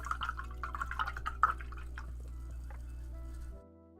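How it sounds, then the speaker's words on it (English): Paint brush swished and rinsed in a small pot of water after painting miniatures, with soft close dripping and tapping that fades after a few seconds. "Rinse our brush really well."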